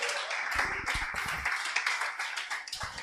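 A congregation at an evangelical church service claps together in a steady, lively burst, the dense hand-claps filling the room for about three seconds with no talking over them.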